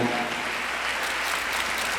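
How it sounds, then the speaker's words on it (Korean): An audience at a musical's press event applauds: a dense, steady wash of many hands clapping together, loud and continuous throughout with no break. "큰 박수 부탁드립니다"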